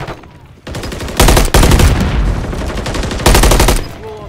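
Loud, close gunfire in Modern Warfare 3 arrives in dense bursts of rapid automatic shots separated by brief gaps, opening after a quieter lead-in and ending with a fading tail, with no speech.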